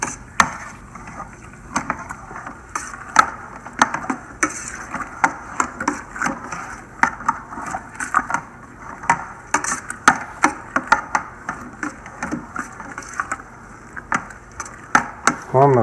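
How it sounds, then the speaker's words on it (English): A paddle stirs grain mash for a strawberry ale in a Grainfather brewer, making irregular hollow knocks and scrapes against the vessel over a low steady hum. "I'm gonna finish stirring this in real good"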